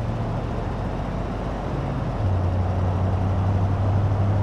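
A Mercedes Sprinter van hauling a 2.5-ton load drones steadily along a winding road in BeamNG.drive, with a constant low engine hum that steps up in pitch midway.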